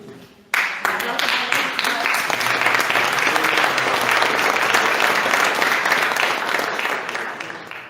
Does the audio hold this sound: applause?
yes